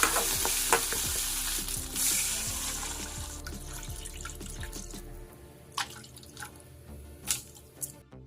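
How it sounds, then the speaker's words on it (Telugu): Water is poured into a hot pan of sizzling upma tempering with cumin and curry leaves, setting off a loud hiss. The hiss fades into softer bubbling, scattered drips and a few stirring scrapes. "ఉప్మాలో అంత వాటర్ పోసాను."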